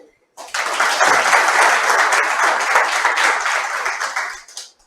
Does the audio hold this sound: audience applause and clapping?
yes